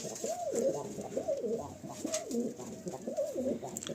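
Giribaz pigeons in a loft coo softly and continuously, with rolling, repeated calls from several birds close together over a quiet background.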